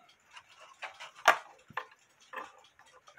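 A cuckoo clock with dancing couple and waterwheel ticks on its own, a steady run of light, close ticks with slightly uneven spacing and no talking.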